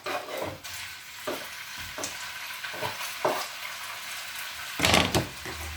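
Chicken pieces for a goulash frying in a pan while being stirred, with a steady soft sizzle broken by several scraping stirs and a louder, busier burst of sizzling and clatter near the end; no talking.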